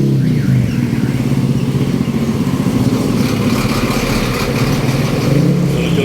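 Jeepneys and large trucks roll past steadily on a Philippine road during a transport strike, a loud, continuous rumble of diesel engines and passing traffic with no pause.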